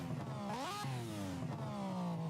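Car engine with different camshafts in the racing video game Project Cars, revving in quick, rising bursts that swell and drop back, the tone uneven and close, heard alone without talk.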